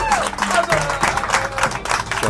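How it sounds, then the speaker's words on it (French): An audience claps and applauds at a boxing event as fighters are called to the ring. The clapping is steady, dense and fairly close, with a murmur of voices beneath it. "des applaudissements"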